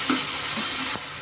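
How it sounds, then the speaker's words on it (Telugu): A spoon stirs carrot halwa with dry fruits mixed in, giving a soft, brief scraping and sizzling sound close by, with no talking. "డ్రై ఫ్రూట్స్ కూడా యాడ్ చేసేసుకొని మొత్తం మిక్స్ చేసుకోవాలి."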